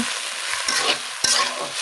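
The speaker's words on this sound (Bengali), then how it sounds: "এগুলো দিয়ে আমি কিছুক্ষণ নেড়ে চড়ে একটু ভাজা ভাজা করে নেব" Onions and diced potatoes fry in oil for a hotel-style chickpea curry, with a close, steady sizzle broken by a couple of quick stirring scrapes and no voices.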